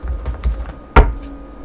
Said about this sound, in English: Now let me go ahead and shuffle for the person that you love.